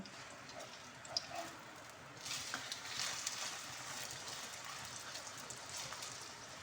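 Egg-coated pieces fry in a pan, giving a soft, steady sizzle like light rain that swells after a couple of seconds and stays fairly quiet.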